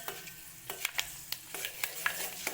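Curry leaves and fenugreek seeds heating in oil in a pan for a homemade Ayurvedic hair oil, giving a soft steady sizzle with repeated sharp scrapes and taps of a stirring spoon.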